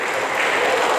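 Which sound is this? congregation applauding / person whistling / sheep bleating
congregation applauding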